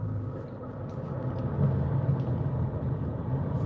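Heard from inside a moving bus, a constant low rumble of the engine and road noise holds steady throughout, with nobody talking.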